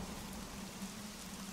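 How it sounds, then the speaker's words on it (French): Rain pours down in a heavy shower in a My Little Pony cartoon, a dense, steady hiss of falling water heard briefly and faintly, with no voices. "Oh, il pleut beaucoup trop!"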